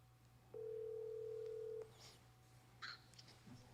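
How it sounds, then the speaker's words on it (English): A single steady telephone dial tone sounds for over a second, followed by faint clicks and brief higher electronic beeps as a phone call is placed, with a low constant hum underneath. "Make another phone call."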